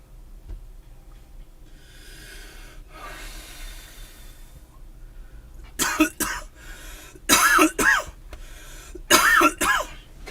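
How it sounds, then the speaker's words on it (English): A person coughs hard, several harsh, raspy coughs coming in quick clusters after a quiet stretch of faint background noise. "Mom's gonna be pissed when she hears me coughing like this."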